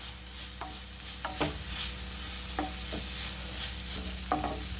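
Soft sizzling of egg dish ingredients sautéing in a pan on a stove, with a few scattered clinks of a utensil stirring, steady and close.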